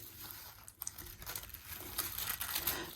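Scissors cut across a sheet of tissue-paper sewing pattern for McCall's 8220, giving a steady crinkling rustle with small snips and paper shifts, close and fairly quiet, with no talk.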